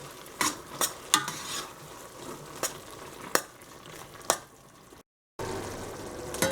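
A spoon stirs chopped tomatoes and spices in a pot for Indian tomato soup, giving a soft continuous scraping and sizzling bed with several sharp clinks against the pot and a brief gap near the end; no one speaks.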